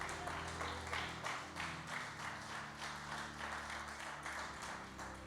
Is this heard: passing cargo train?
no